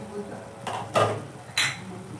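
A lid lifted off a cooking pot of potatoes and drumstick flowers, a few short metallic clanks and scrapes close by against quiet kitchen background.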